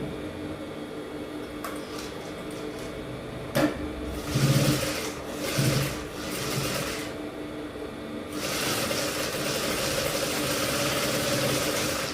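A sewing machine stitching the side seams of a straight long skirt runs in close bursts of rapid mechanical whirring, stopping and starting a few times before settling into a steady longer run.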